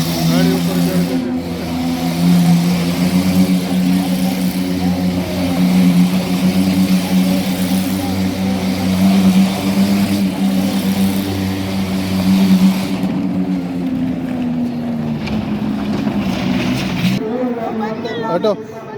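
Car engine revving inside a Well of Death wall-riding stunt show at a fair, a loud, steady droning roar with a rising pitch sweep near the end, under continuous crowd chatter and shouting voices.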